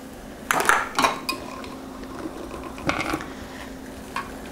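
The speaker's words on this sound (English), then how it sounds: "take the lid off and scrape it back into your saucepan" A utensil scrapes homemade barbecue sauce off a pot lid back into a saucepan, a few short metallic scrapes and clinks in quick bursts, close and fairly loud, with pauses between.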